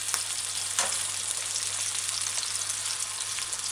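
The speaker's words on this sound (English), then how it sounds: "I know this pot is a bit small, but I'm gonna show you how I fry." Food fries in a small pot with a continuous, even sizzle and crackle, small pops scattered through it, close and alone with no voices.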